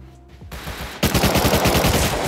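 Gunfire in the video game Rust, a loud, rapid automatic burst of close rifle shots in quick succession, preceded by a quieter half-second of shots.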